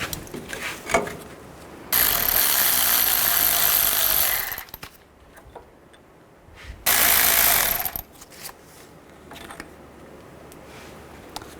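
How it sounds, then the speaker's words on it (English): Two loud bursts of a power tool, each lasting a few seconds, separated by a quieter gap with small clanks, as 18mm caliper bolts are removed from the front brake of a 1999-2007 Chevy Silverado 2500HD; no talking. "Remove these two bolts"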